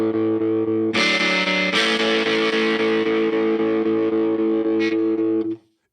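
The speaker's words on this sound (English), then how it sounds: "I've got an Old Blood Noise Endeavors Whitecap pedal. It's essentially a dual tremolo." An electric guitar through an Old Blood Noise Endeavors Whitecap dual tremolo pedal rings a sustained distorted chord with pulsing undulation, then two struck chords and a brief accent before cutting off abruptly.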